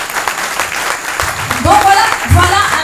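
Congregation applauding the Lord during a church sermon, a loud sustained crowd of clapping hands with voices and cheers mixed in, swelling toward the end.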